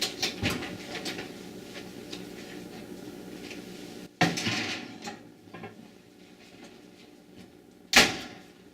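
An oven door opens with a sharp clank, a clay baker is set inside with a rattle of pottery, and the door shuts with a final bang, amid softer kitchen clatter.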